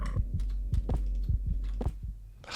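Low gurgling creature noises from a horror video game, a series of short wet throbbing pulses repeating irregularly against a steady low hum, with a brighter burst at the end.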